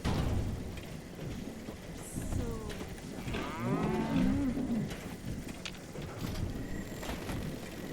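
Cow lowing in the online game Fallout 76, one drawn-out moo rising and falling over a steady rain-like ambient wash, fairly close and clear with no talk.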